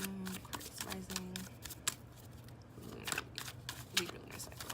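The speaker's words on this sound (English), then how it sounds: "I'm just gonna shuffle the cards" Tarot cards are shuffled by hand in soft, papery bursts and riffles, fairly quiet and close, with a faint steady tone humming underneath.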